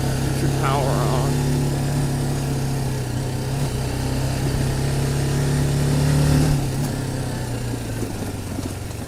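A 2018 BMW G310GS motorcycle engine is held at high revs, around 5,000-6,000 RPM, giving a loud, steady droning tone that shifts slightly near the end while people talk nearby.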